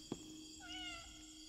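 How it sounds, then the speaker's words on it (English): A cat in a video game meows once, a short rising and falling call heard close over a faint humming game background. "You meow a lot, don't you?"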